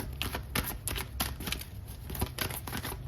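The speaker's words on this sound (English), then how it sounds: "and I'm also going to shuffle some tarot" Tarot cards are shuffled in quick, crisp riffles and slaps, a fairly quiet series of papery bursts in an irregular rhythm with no talking.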